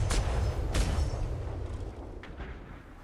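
Ship cannon fire in a naval video game, two heavy booming blasts close together with deep rumbling tails, followed by a fainter distant boom as the sound decays.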